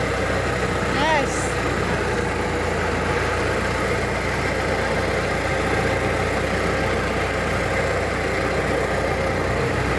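A 100-year-old Ford Model T engine running while being driven, a steady low mechanical drone throughout with a brief squeak early on, heard up close.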